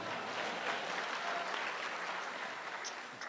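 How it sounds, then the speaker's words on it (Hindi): Audience applause at a live comedy show, a steady, dense wash of clapping held at even loudness throughout, slightly easing toward the end. "इनके लिए बहुत सी तालियाँ, बहुत सी तालियाँ"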